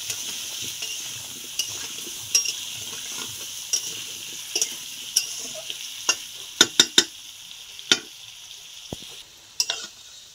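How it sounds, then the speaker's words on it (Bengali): Potatoes fry in hot oil with salt and turmeric, giving a steady, soft sizzle throughout, broken by sharp scraping and clinking strokes from stirring that cluster and grow louder toward the end. "এবার আমি লবণের হলুদ দিয়ে আলুটাকে ভেজে নেব"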